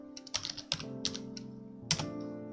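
Brisk typing on a computer keyboard, a handful of soft, close key clicks in an uneven rhythm, faint and alone in a quiet room.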